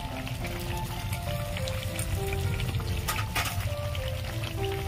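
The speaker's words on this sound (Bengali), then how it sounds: "এবার আমি কাঁচা লঙ্কা আর আদা বাটা দিয়ে দেবো।" Chicken curry cooked with goat fat sizzles steadily in a pan as green chili and ginger paste go in, a continuous close frying crackle with no voices.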